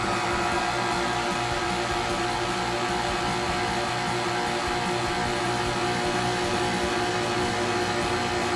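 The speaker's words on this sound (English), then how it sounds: "we're going to give it a mix together with the dough hook on the stand mixer" Stand mixer with a dough hook working vegan hot cross bun dough: a steady, continuous motor whir with a constant hum, heard alone throughout.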